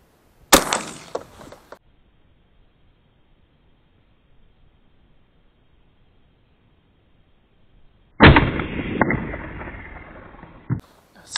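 Two sharp, loud gunshots from a Stoeger M3500 Max 5 Camo shotgun firing slugs at a target outdoors, each a sudden crack with a brief rumbling tail, spaced about eight seconds apart with silence between.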